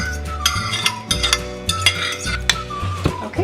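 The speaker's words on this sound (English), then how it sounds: "you're just gonna go ahead and mix this all up" A spoon stirs and mixes cooked quinoa salad in a bowl, giving repeated clinks and scrapes against the bowl in an uneven rhythm, close and fairly loud.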